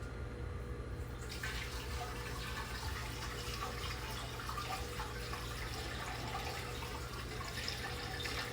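Water pours steadily into an Emery Thompson CB-350 machine, a continuous rushing splash that holds even and close for the whole stretch with no talking.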